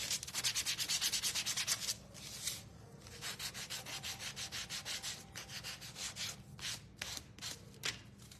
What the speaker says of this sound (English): I'm just gonna lightly sand my ghost.